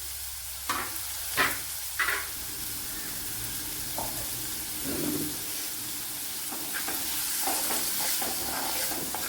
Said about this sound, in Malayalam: അപ്പോൾ ചെറിയൊരു തക്കാളി പഴം ഇട്ട് കൊടുത്ത് അതിനെ നല്ലവണ്ണം ഒന്ന് വഴട്ടിയെടുക്കാം.